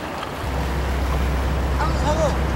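Rough sea waves wash and churn around a fishing boat out shark fishing, a steady loud rush of water and wind with a low rumble underneath, close to the microphone.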